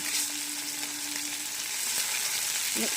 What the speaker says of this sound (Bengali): মাছটা বেশি কড়া করে ভাজবো না, হালকা করেই ভেজে তুলে নেব।